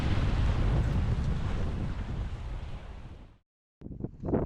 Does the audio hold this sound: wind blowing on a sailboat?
yes